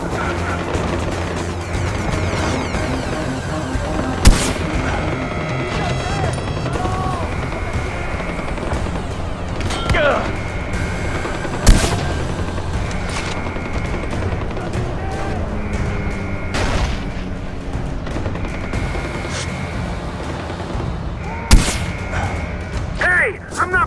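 Gunfire and explosions in Far Cry 4, with sharp loud shots standing out at intervals over a constant rumble of engine and battle noise, and voices talking throughout.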